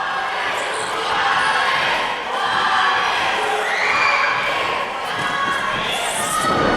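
Wrestling arena crowd at an independent Civil War wrestling show cheering loudly and steadily behind a wrestler fighting back, with shouts and a few thuds in the dense roar.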